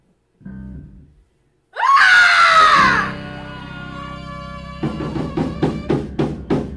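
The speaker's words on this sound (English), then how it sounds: "I'd like you guys to join me when you feel comfortable screaming" Several people scream together at a spoken-word gathering, opening with a short voice before a loud, piercing burst of screaming that fades into sustained tones and ends in rhythmic, pulsing shouts.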